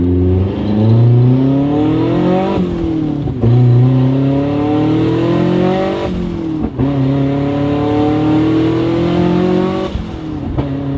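A 450 wheel-horsepower Hyundai Genesis on pump gas accelerates hard under full boost, its engine note climbing loudly through repeated gear pulls with brief dips at each shift, close and continuous throughout.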